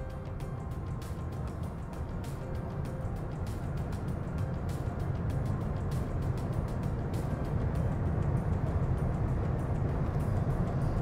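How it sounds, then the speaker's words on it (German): A BMW i7 luxury electric car accelerates toward 100 km/h, heard as a steady low road and drivetrain rumble that stays constant and fairly quiet, with no talk over it. "Wir schauen, wie schnell wir auf 100 beschleunigen können."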